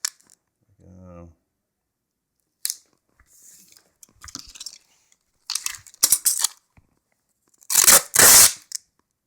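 Used adhesive roll tape is pulled off and torn in a few sharp, rasping bursts, closest and loudest toward the end, after a brief spoken word and quiet handling noises.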